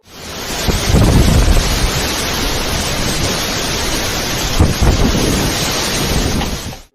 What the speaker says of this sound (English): the sheer power and noise of that storm are enough to give anyone nightmares